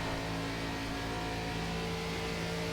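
Race car engine in iRacing's ARCA Series stock car at Las Vegas, droning steadily under careful throttle, a continuous mid-pitched hum with no talk.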